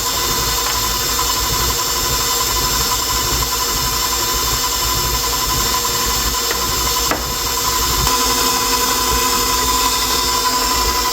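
An electric stand mixer whirs steadily while mixing batter for a maple syrup pouding chômeur cake, a loud continuous motor drone with a brief dip midway.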